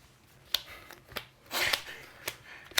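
A deck of Pokemon cards is shuffled close up in quick, crisp riffles and snaps, several short bursts with a longer flurry in the middle.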